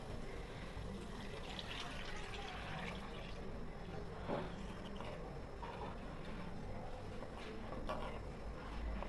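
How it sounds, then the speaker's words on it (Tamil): Second coconut milk pours into a pan of sautéed spices for Kerala fish molee, a steady soft liquid wash running evenly throughout at low level. "இப்போ ரெண்டாவது தேங்காய் பால் ஆட் பண்ணுறோம்"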